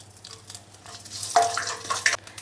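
Mustard seeds, urad dal and dried red chili crackle in a little hot oil, a quiet sizzle with a few sharper pops and a spoon scraping the pan, no talking.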